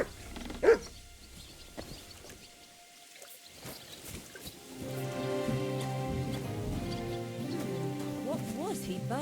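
A dog barks once, sharp and close, in the medieval game Kingdom Come: Deliverance 2, followed by quiet ambience and then soft background music.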